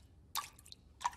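Two quick drips from a faulty tap in a cartoon, crisp and close, roughly seven tenths of a second apart with near silence between them.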